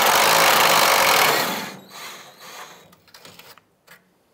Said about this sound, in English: We can now remove this bolt from this rear strap.